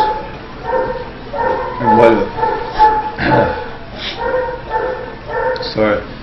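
A small rescued dog, once used as a bait dog for fighting, gives repeated short yips and whimpering barks close by, mixed with a voice talking.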